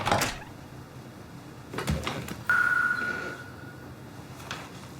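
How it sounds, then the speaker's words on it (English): A door opens in a scene from a Crocs movie. A quiet knock and clunk come first, then a brief tonal squeak that fades out, with no talking. "the guy who owns those Crocs opens his door"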